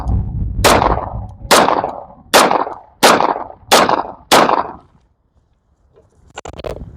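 Six loud, sharp gunshots from a Rock Island 1911 pistol in .45 ACP, fired in an evenly spaced rhythm outdoors, each with a short decaying tail, followed by a pause and then fainter distant shots.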